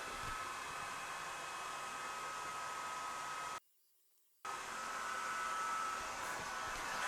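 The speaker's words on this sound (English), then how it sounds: "Okay, so now I'm going to try cutting. So I'm going to be going much slower." A VEVOR 20W diode laser engraver cutting with air assist gives a steady, hissing, fan-like whir with a faint high tone, which cuts out abruptly for about a second before resuming at the same level, no talk.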